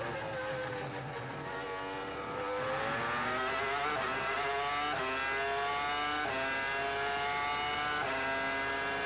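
Formula 1 cars racing at the 2002 Canadian Grand Prix, engines screaming loud and steady as they pass one after another, with rising and falling high-pitched whines throughout and no talk.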